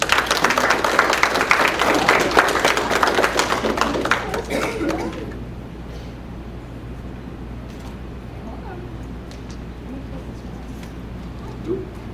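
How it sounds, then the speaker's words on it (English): Pageant audience gives a round of applause for a contestant, a dense burst of clapping for about five seconds that fades out, leaving quiet room tone and a soft voice. "One more round of applause for her, please."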